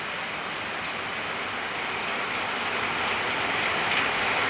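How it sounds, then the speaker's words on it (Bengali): Heavy rain pouring down at night, a dense, steady wash of drops on surfaces, loud and continuous throughout with no voices. "মুষলধারে বৃষ্টি শুরু হয়েছে।"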